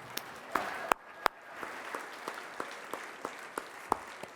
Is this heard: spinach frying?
no